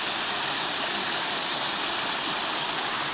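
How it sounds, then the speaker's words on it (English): Water pours down a waterfall on Grassington Moor in heavy rain, a loud, continuous broadband rush with no breaks and no talking. "It's a waterfall."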